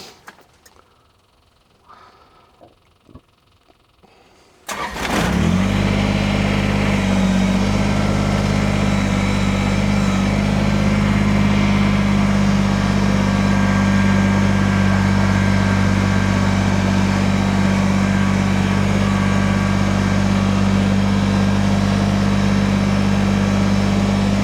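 A Kubota BX compact tractor engine starts up and then runs at a steady, loud drone for the rest of the clip, with no talking.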